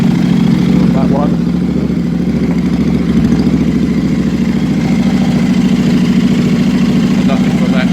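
Royal Enfield 650 Interceptor twin running on new aftermarket silencers, a steady close idle with a low throbbing exhaust beat and faint mechanical clatter throughout.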